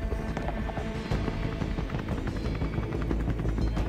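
A helicopter sound effect plays steadily for the whole stretch in a Jurassic World toy movie, a dense, loud rotor roar with a rapid chopping pulse and no gaps.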